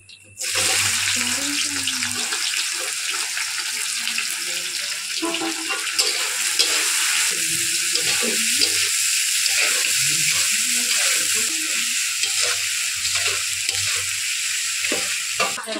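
Chopped onions fry in hot oil after a bay leaf tempering, giving a loud, steady sizzle that runs the whole time, with occasional stirring and scraping in the pan.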